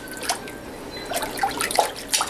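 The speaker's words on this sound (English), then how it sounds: "kind of push it in and out of the water, pull it back," A wool cloth diaper cover being pushed in and out of a basin of water and pulled back to rinse, with several close sloshing splashes and drips at uneven intervals, no talking.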